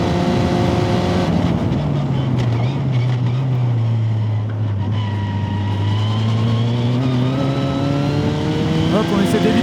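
A small Ford engine in a vintage race car drones loudly throughout, its pitch sagging then climbing again as it revs through a corner, heard from close by.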